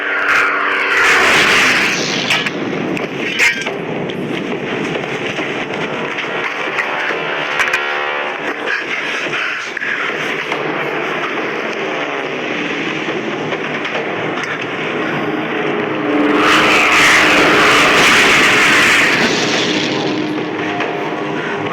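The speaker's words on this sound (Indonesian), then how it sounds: "Pesawat" Airplane engine droning overhead during a bombing run, a steady loud roar that swells near the start and again toward the end, with no voices.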